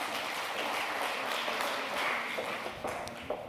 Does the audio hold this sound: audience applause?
yes